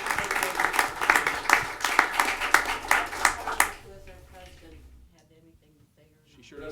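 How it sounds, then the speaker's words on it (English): Applause at a Hamilton city council meeting: a few seconds of brisk, steady clapping from a modest crowd, which then cuts off and leaves quiet room sound with faint voices. "How about a round of applause for"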